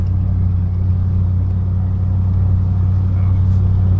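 A truck with a 4L60E automatic transmission runs through its gears, giving a loud, steady engine drone with a strong low rumble and no clear breaks between shifts.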